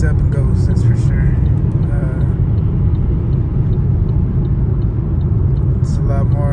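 A Chevrolet Camaro SS, fifth generation, fitted with a newly installed cam, revs up toward high RPM with a loud, steady low rumble that holds throughout, while a voice talks over it.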